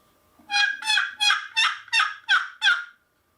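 Seven evenly spaced raspy yelps from a turkey call, clear and close, rising in a steady rhythm before stopping abruptly.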